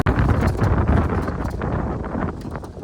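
Strong wind buffets the microphone outdoors near a pigeon setup, a loud continuous rumbling roar with gusty fluctuations throughout and no voices.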